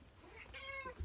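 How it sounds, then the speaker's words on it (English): A pet cat meows indoors, a single drawn-out meow rising then falling in pitch, fairly close and clear against quiet room tone. "Oh, there goes my cat."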